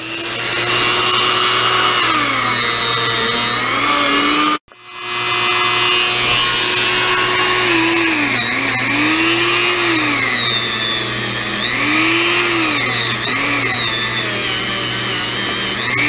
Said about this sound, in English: 320 grit Scotch-Brite pad. And that's just cutting this crap right out.